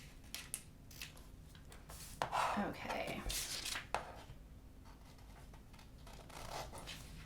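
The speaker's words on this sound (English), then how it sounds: "I'm going to use my scissors because it's a little easier on these tiny curves" Scissors snipping through paper sewing pattern pieces around tight curves, a few short close cuts in a quiet room, with a brief spoken word from a person.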